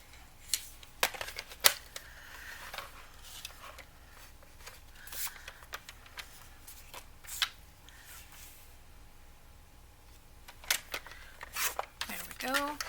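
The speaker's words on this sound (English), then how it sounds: "so I'm just going to trim this real quick" Paper being trimmed for a ring-bound journal envelope insert gives a handful of crisp, separate cutting snips at close range, with a person talking in between.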